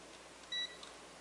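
A multimeter set to its continuity range gives one short, clear electronic beep in an otherwise quiet room, used while testing fuses.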